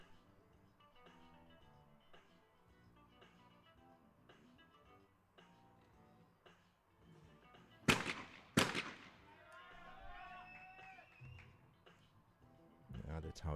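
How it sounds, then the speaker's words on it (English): Two sharp shotgun blasts close together ring out at a women's skeet team final at a European shotgun championship in Leobersdorf, Austria, loud against a murmuring crowd, followed by a ringing whistle-like tone and a dull thump near the end. "Very controlled shooting now"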